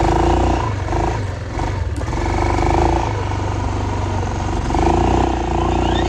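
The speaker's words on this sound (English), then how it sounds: "We'll see if the four-wheeler can make it through the snow with this thing." A four-wheeler engine drones loudly and steadily while pulling a homemade sled through deep snow in Arkansas, the motor rising and settling with clattering underneath.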